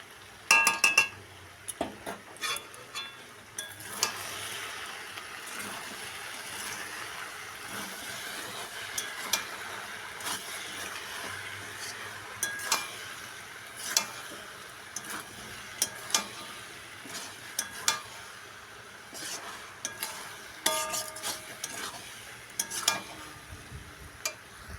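Kochur loti, taro stolons, being stirred in a pan with cumin powder and sugar, soft scraping and clinking of a spatula against metal over a faint sizzle, steady and close with no talking.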